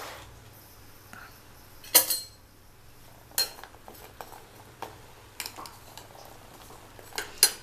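A pressure cooker of boiled peanuts is opened in a kitchen, giving sharp metallic clinks and clanks of the lid and pot that come at scattered intervals over a quiet, low hum.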